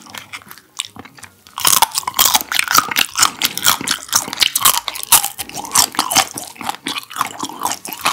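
Crunchy crab coated in mayonnaise is bitten and chewed up close, loud brittle crackles and wet crunches repeating densely after a quiet opening second, with no talking.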